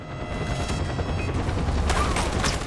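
Sustained gunfire fills a Far Cry 4 airport battle, a steady loud barrage of overlapping shots with a rising burst near the end.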